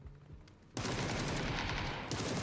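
Gunfire in a PUBG esports grand-final match, where a quiet stretch gives way to a sudden, loud, sustained burst of rapid shots that runs to the end.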